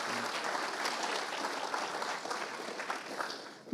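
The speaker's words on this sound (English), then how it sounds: "So please give a warm hand of applause to Charles-Frédéric." An audience at a security conference in Montreal claps for a speaker, a steady wash of applause that holds for several seconds and then tapers off near the end.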